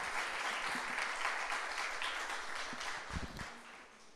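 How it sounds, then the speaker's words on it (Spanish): Sustained applause from a large church congregation, a dense steady clatter of clapping that gradually thins toward the end. "Bríndale un fuerte aplauso al Señor."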